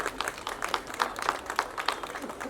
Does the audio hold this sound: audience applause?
yes